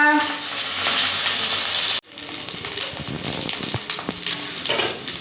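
Food frying in a pan, a loud steady sizzle that cuts off abruptly and resumes as a rougher crackling fry with occasional stirring noises.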